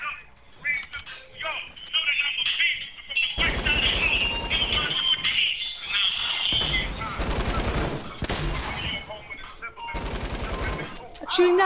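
Rapid automatic gunfire from Fortnite Battle Royale comes in several long, loud bursts separated by short pauses, with some quieter game sounds between them.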